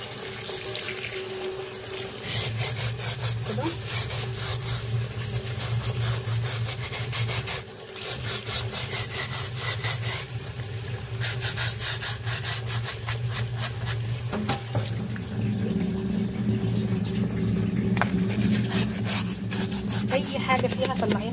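A brush scrubs a washing machine filter under a running tap, quick rasping strokes in bursts over a steady stream of water, close and fairly loud, with a short pause midway.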